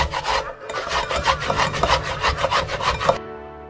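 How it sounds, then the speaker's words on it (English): Pears rubbed against a coarse grater in rapid, regular back-and-forth scraping strokes, close and steady, stopping abruptly near the end; no talking. "we're gonna start grating the pears."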